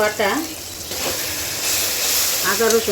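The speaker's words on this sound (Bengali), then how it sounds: "আদা রসুন কিছুক্ষণ ভেজে নিয়েছি" Ginger garlic paste fries in hot oil with a bright sizzle and hiss, stirred now and then, while a voice talks over it near the start and the end.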